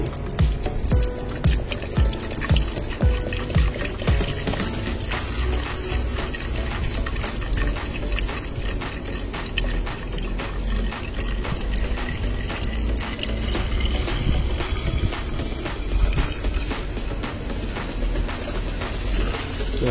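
Water pours steadily into a 2018 Chevrolet Tahoe's coolant reservoir, gurgling continuously for the whole stretch, close and fairly loud, with no talking.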